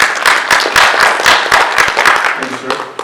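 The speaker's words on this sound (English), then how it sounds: "please give a round of applause" At a crime and safety community event in Snellville, an audience claps steadily in a dense, close round of applause, with voices murmuring underneath.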